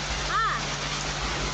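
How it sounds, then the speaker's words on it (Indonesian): Rain mixed with marble-sized hail pours down on a Friday afternoon in Kayu Aro, Kerinci, Jambi, Indonesia, making a dense, steady hiss of falling water and ice with a brief tonal chirp partway through. "guyuran hujan bercampur es turun di wilayah Kecamatan Kayu Aro, Kabupaten Kerinci pada Jumat sore"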